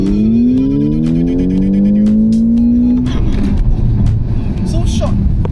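A smart #1 car revs hard through an agility and evasive steering test, its engine tone climbing steadily before breaking into loud tire and road noise, with people talking over it.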